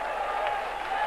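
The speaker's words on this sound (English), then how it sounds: "The Low Brigade cheering again." A darts crowd at the 1987 World Championship final applauds and cheers, a steady dense wash of clapping at moderate loudness throughout the short moment.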